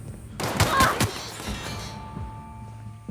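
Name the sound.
gunfire in The Outer Worlds video game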